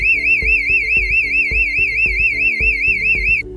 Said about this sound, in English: Here's what an internal Klaxon sounds like.